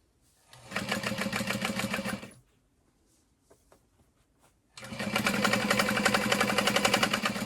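A sewing machine stitches through several stacked backpack layers about an eighth of an inch from the outer edge, running in two loud sustained bursts separated by a short quiet pause.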